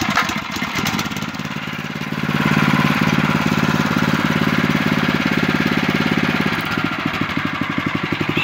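A Lifan 8 hp engine on a Neva MB-1 walk-behind tractor runs close by, a loud steady chugging drone that rises slightly in pitch after the first couple of seconds and holds evenly throughout.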